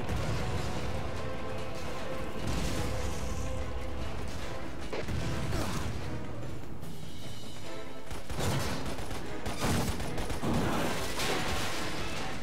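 Cannon blasts and gunfire from the video game Lost Planet Colonies, with dense, continuous crashing explosions and bursts of shots layered over rumbling game effects throughout.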